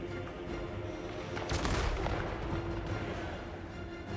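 Cannon fire from Dwarf artillery in the Total War: Warhammer 3 Realm of Chaos campaign, a deep booming blast rising midway over a constant rumbling battle din and a steady background hum.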